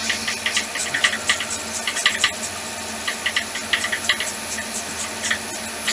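Wood lathe running at about 1500 rpm while turning a wooden whistle, a steady motor hum with a high tone and a continuous rhythmic rattling patter.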